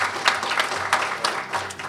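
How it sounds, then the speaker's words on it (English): A crowd applauds at a mayor's New Year's levee in Grey Highlands, honoring people for years of community service; steady, dense clapping fills the room continuously with a few louder bursts. "Let's give them a round of applause."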